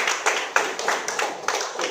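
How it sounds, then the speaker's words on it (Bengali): Audience clapping in rhythm for a company founder at a product presentation, a string of roughly eight sharp, evenly spaced claps, fairly close and loud. "সুতরাং তার জন্য আমরা একটা জোরে করতালি।"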